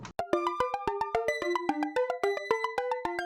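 Three interleaved Pure Data arpeggio lines, ARP1 to ARP3, run through reverb as a fast, steady stream of plucked synth notes stepping up and down in a repeating pattern, bright and close.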